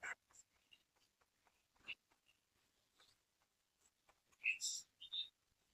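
Chalk or marker scratches on a board during a history lecture, a series of short, faint strokes and taps in a quiet room, with a few louder scrapes near the end.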